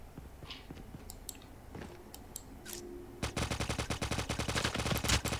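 Call of Duty gameplay: scattered distant gunshots give way to sustained rapid automatic gunfire, loud and rhythmic, in the second half.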